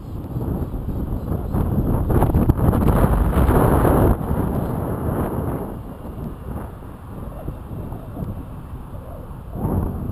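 Strong wind buffets an open microphone outdoors, a loud, continuous low rumble with gusty swells, easing slightly after a few seconds and surging again near the end.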